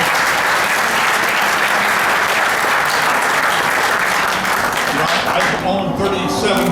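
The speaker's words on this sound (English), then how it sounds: "let's give them a round of applause for me" An audience at a 2014 Corvette presentation gives its engineering team a sustained round of loud applause that fills the whole stretch and thins slightly toward the close.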